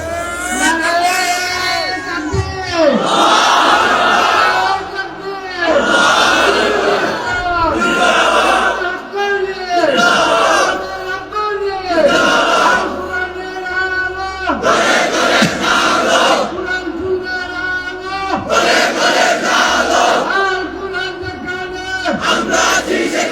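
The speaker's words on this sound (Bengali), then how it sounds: "তোমরাই স্লোগান দাও, তোমরাই তাকবীর বলো" A large crowd at an Islamic waz sermon roars takbir slogans in unison, loud chanted bursts repeating every couple of seconds in steady call-and-response waves.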